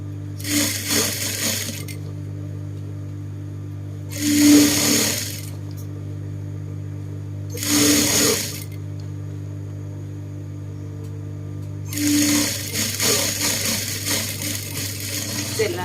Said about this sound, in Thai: เราเย็บชายไปเลยนะคะ จะได้ไม่เป็นการเสียเวลาเพื่อนถ่ายเย็บชายไปเลย